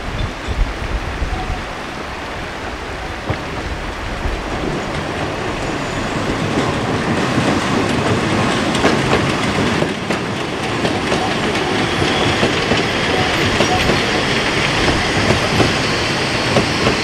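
A steam train rolls steadily nearby across a river bridge on a narrow-gauge line, with rhythmic clickety-clack and faint wheel squeal, the rumble building gradually into a sustained roar with no talking.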